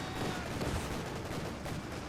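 Rapid 20mm autocannon fire in the Company of Heroes 2 video game, a dense, continuous burst of gunfire that stays loud and steady throughout, with no talking.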